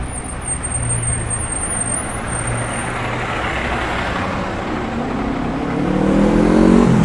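Garbage truck driving along a city street in Toronto, a steady low engine rumble and road noise that swells louder toward the end as the heavy vehicle draws closer.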